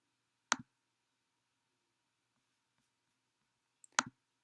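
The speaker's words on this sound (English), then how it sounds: "I'm going to click on the left one and make that selection." Two crisp computer mouse clicks, one near the start and one near the end, each a short sharp double tick, close and isolated against near silence.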